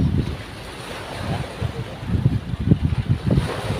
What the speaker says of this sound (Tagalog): Malinggap pa talaga ang alon mga bro.